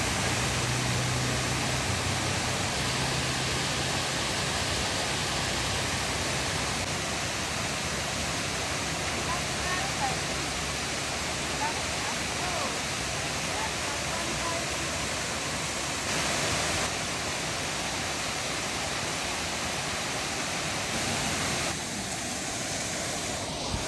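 A waterfall roars in a steady, dense broadband rush that holds unbroken from start to finish, loud and close, with a faint voice passing underneath.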